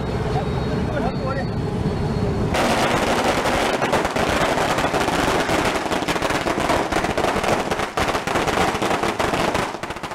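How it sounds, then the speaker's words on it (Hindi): Firecrackers burst in a dense, loud, continuous crackling barrage at Shamsuddin Circle in Bhatkal during a street celebration. The crackling starts abruptly a few seconds in and keeps going without a break, with voices in the background. "भटकल बीजेपी ने बंद के नाकाम होने पर शमसुद्दीन सर्कल पर पटाखे फोड़े"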